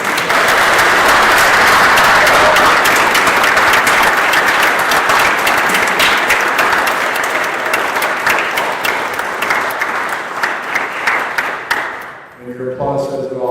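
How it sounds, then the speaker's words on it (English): A town hall audience applauds loudly and steadily, dense clapping filling the room for about twelve seconds before fading out, then a voice speaks briefly at the end. "And your applause says it all"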